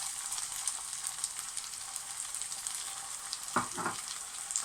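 Tomatoes frying in a pan for a rajma (red kidney bean) curry give a constant, fairly quiet sizzle. Near the end a couple of brief scraping knocks come from the pan.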